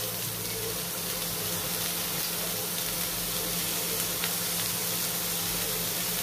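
Capsicum tossed into a pan with other vegetables, frying with a steady, close, even sizzle and hiss that holds throughout with no break.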